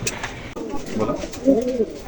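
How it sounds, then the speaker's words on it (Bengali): Rampuri pigeons, a pure bloodline pair, coo softly and close by in a couple of low, rolling calls. "এই যে আমার হাতের দুটো কবুতর দেখতে পাচ্ছেন, এই পিওর ব্লাড লাইনের দুটো রামপুরি কবুতর"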